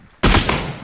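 A sudden loud burst of gunfire from a PUBG match, a player hit by a headshot, cracking in close and then ringing out for a moment.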